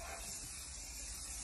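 Silicone spray hisses steadily as it coats the rubber door seals of a historic car, a faint, even burst lasting about a second and a half with no voices.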